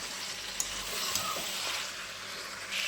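Chicken pieces sauté in hot oil with garam masala for a red chicken curry, giving a soft, steady sizzling hiss with faint stirring ticks, close by and without talk.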